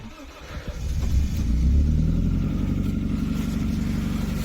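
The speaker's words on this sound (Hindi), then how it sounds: "गाड़ी स्टार्ट करके देखते हैं क्या रिस्पॉन्स रखता है" A car engine cranks and starts on a high-altitude road trip stop at Chukshul in Ladakh, then revs up and settles into a loud, steady idle close by, with no talking.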